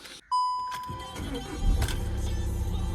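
An Opel, Skoda or Volvo car engine cranks and starts cleanly, then settles into a steady idle, preceded by a short electronic chime.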